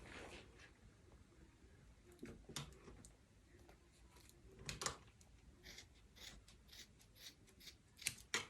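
Scissors snip wool in a quick, quiet series of crisp cuts, close up and spread irregularly through the stretch, with no talking.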